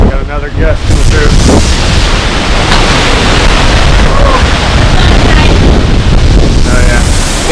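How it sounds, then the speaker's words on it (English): Strong gusts from Hurricane Irma roar continuously as a loud, broadband rush of wind that buffets the recording nonstop, with brief tonal fragments of voices buried under it. "Got another gust coming through."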